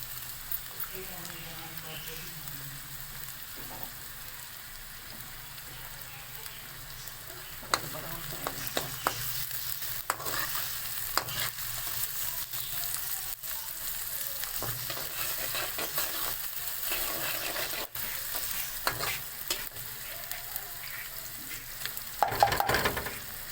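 Chopped onions fry in oil in a pan for a stuffed bitter gourd dish, giving a steady sizzle with spatula scrapes and stirring clatter that grow busier, with a voice speaking over the start.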